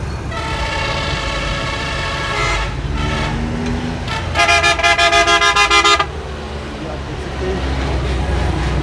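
Jammed traffic on GT Road at Rawat, Islamabad, with a low engine rumble under repeated loud horn blasts, including a long sustained honk near the end of the blaring stretch.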